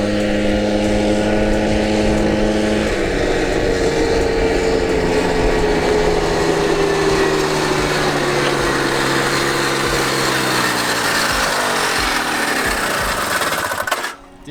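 A 1979 Odyssey FL250 buggy engine revs hard under acceleration on its first drive, a loud, raspy small-engine whine climbing steadily in pitch for several seconds, then sagging and dropping off abruptly at the end.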